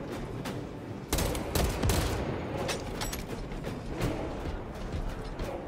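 Gunfire in the video game Warhammer 40,000: Space Marine 2, with a burst of sharp pistol shots starting about a second in, then scattered loud cracks over a busy battle din.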